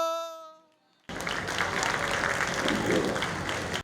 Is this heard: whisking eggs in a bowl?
no